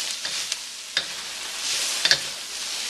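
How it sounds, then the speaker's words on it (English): Stir-frying in a wok for Philly cheesesteaks made with ribeye steak, a loud hissing sizzle broken by several sharp scraping and clanking strokes of a utensil against the metal, close up. "I love wok cooking."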